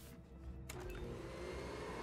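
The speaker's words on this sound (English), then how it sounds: "Go check out the vacuum cleaner." In the Hitman (2016) Paris mission, a vacuum cleaner switches on with a short click and surge, then settles into a steady whirring motor hum at moderate level.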